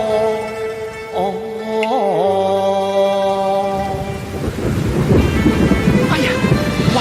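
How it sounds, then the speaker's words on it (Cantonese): A staged thunderstorm effect in a Cantonese opera performance: sustained melodic instruments fade into a loud, broad wash of rumbling thunder and hissing rain that fills the second half. "橫風橫雨，你話點算？"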